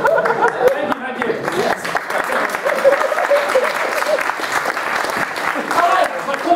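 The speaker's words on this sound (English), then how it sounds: "my four people started to applaud" An audience at a comedy show at the University of Salford breaks into loud, continuous applause and scattered cheers while a voice carries on over the clapping.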